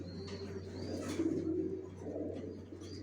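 Racing pigeons coo in a loft, low throaty calls repeating close by over a steady hum, with faint chirps from other birds above.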